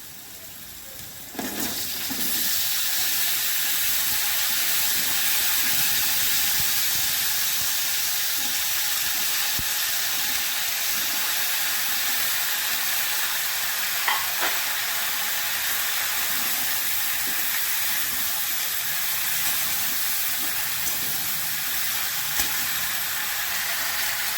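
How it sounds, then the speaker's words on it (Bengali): Mixed vegetables for a five-vegetable curry with fish head sizzle and fry steadily in a pan, a dense continuous hiss that starts abruptly as they go in and holds loud throughout, with faint occasional stirring clicks and no talk. "সব সবজিগুলো আমি একসঙ্গে পরপর দিয়ে যাবো।"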